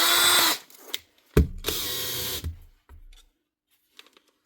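A Makita cordless drill runs in short bursts with a high whirring whine as the chuck spins, stopping and restarting with clicks, close and alone.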